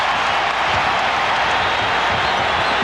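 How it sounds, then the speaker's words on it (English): A dense, roaring arena crowd at the 1992 NBA Finals, Game 2, Portland at Chicago, cheering and shouting in a constant loud wash of noise with no break. "The crowd is right about at the level that Michael likes to hear it going"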